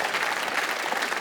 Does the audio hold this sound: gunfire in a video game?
no